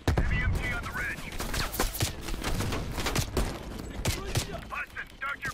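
Heavy machine gun fire in the Black Ops Cold War finale, a ridge-mounted heavy MG rattling in rapid bursts amid dense battle noise, with voices talking over it.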